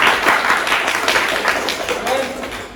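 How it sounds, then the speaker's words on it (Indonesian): Classroom applause for a student group after their presentation, a dense patter of many hands clapping steadily throughout, fairly loud with a faint voice underneath. "kasih tepuk tangan dulu"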